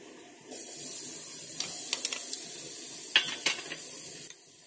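Garlic and ginger paste hits hot oil with a sudden bright hiss that settles into steady frying, punctuated by several clinks of a spoon against the pot before the sizzle drops away.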